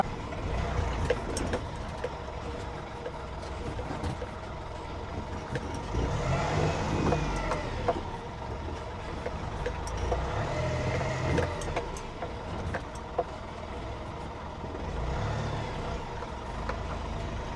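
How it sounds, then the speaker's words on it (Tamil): A Saathi vehicle on a 2025 test drive rolls over a series of speed breakers, its engine droning steadily with swelling rumbles and occasional thumps and rattles as it climbs and drops. "இப்போ வந்து நம்ம இந்த இடத்துல இருந்து வண்டியை வந்து டெஸ்ட் ட்ரைவ் வந்து பண்ணி பார்க்கலாம்"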